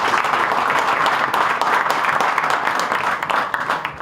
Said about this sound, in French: Donc, il faut l'applaudir aussi.